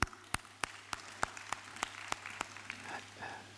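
A church congregation claps during a Sunday service: a string of sharp, evenly spaced claps rings out at a moderate distance, gradually loosening into scattered applause toward the end, with no talking over it.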